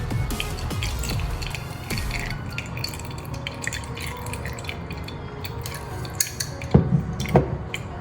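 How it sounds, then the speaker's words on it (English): Herbs are strained out of homemade infused hair oil, with continuous dripping and trickling liquid mixed with light clinks and scrapes of kitchen utensils, close and steady, no speech. "Now it's time for us to separate all the herbs from the oil."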